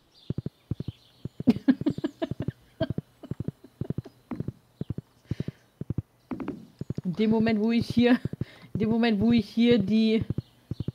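Horse hooves clip-clop in a rapid, even rhythm as a mount gallops across a bridge in the farming game Stardew Valley, the sharp taps continuing under a man's conversational German speech.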